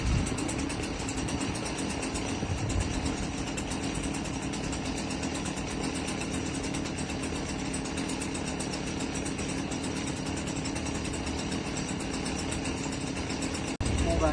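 A garden machine engine idles steadily at a low rumble while warming up, continuous and fairly close, with no clear speech over it.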